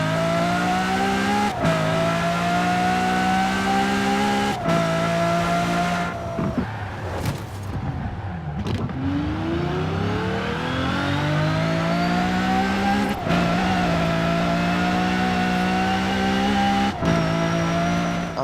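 Ferrari F12 V12 engine in Forza Horizon 4, revving loudly and continuously with rising and falling pitch, sharp shift breaks and a brief lift before climbing again, heard up close and alone.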